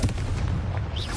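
The Confringo fire spell cast in the Hogwarts Legacy video game on PS5, a short booming blast with a dense, roaring rumble that fills the whole moment, loud and close.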